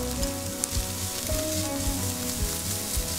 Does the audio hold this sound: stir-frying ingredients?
yes